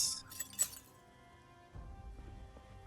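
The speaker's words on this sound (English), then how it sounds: "Remove broken glass." Broken glass cleared away in Project Zomboid gives a burst of bright shattering and clinking shards in the first second, then fades to a quieter low rumble.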